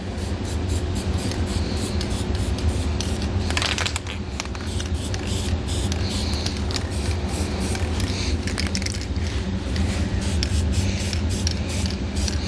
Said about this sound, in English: we're going to take some spray paint and we're going to spray the bare metal